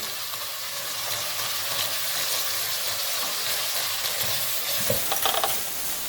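Whole garam masala spices, bay leaf, black cardamom, cloves, black pepper and cumin, fry in a pot for beef daal gosht, giving a soft continuous sizzle with a brief scrape of stirring near the end.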